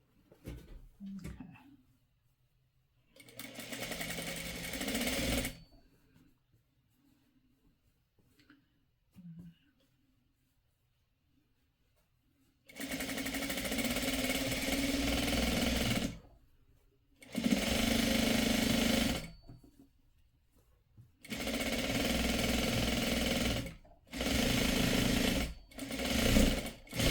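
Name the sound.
sewing machine stitching a quilt block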